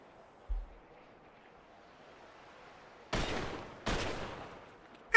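Two sharp, loud gunshots ring out about a second apart at a shooting game stall in an amusement park in GTA, each trailing off with a decaying echo, after a small low thump and a quiet stretch.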